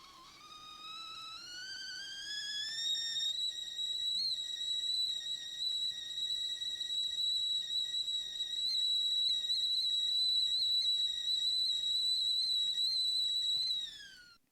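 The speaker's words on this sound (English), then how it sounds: "here is the tea kettle whistle" A tea kettle whistles steadily, its shrill tone rising in pitch for the first few seconds, then holding a sustained piercing note until it cuts off abruptly near the end; no one speaks.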